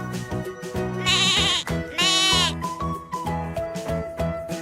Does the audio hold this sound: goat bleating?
yes